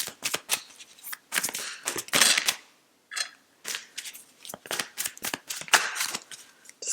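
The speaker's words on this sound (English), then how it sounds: "Or is it just my shuffling?" Tarot cards being shuffled by hand, a close series of crisp riffling and slapping bursts with short pauses between them, alone without talk.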